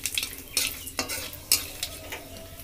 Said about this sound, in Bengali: শুকনো লঙ্কা, তেজপাতা আর জিরেটা একটু ভেজে নেব।